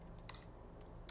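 A few quiet keystrokes on a computer keyboard while a number is entered, two or three short soft clicks spaced apart against a low hum of background noise.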